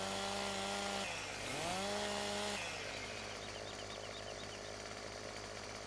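A video game chainsaw delimbing a felled tree on a farm, its engine revving up and bogging down in a loud steady drone that dips in pitch and recovers, then holds a rough, continuous buzz.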